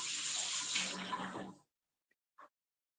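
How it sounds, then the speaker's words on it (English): Tap water runs steadily onto a hand being rinsed at a kitchen sink while baking chocolate chip cookies, then cuts off abruptly, followed by two faint small clicks or drips. "Rinse my hand."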